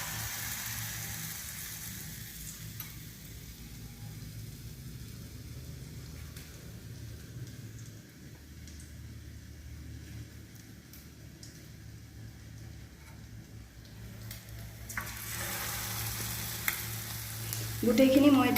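Egg pakora batter frying in hot oil, a steady close sizzle running throughout with light spoon stirring, crackling picking up slightly near the end.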